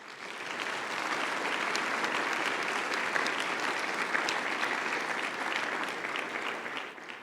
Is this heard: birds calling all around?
no